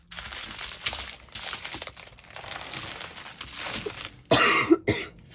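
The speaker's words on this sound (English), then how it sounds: "Oh, I keep coughing." Coughing indoors during a craft kit unboxing, a few quick, close coughs mixed with crinkling packaging, ending in a louder burst.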